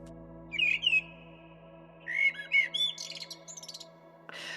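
Bird song in two bursts of high whistled notes and rapid chirping trills, close and clean over a soft hum, ending with a brief rustling noise.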